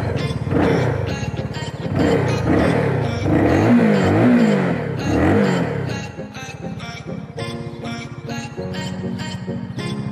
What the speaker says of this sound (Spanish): Luego de que ya carga la bomba, la podemos encender y vamos a escuchar cómo suena esta 300 SR.